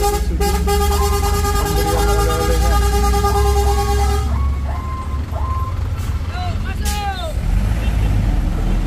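An Isuzu dump truck drives past on a hill road, a loud engine rumble with tonal horn toots and mechanical whines layered on top. Someone talks over the passing noise.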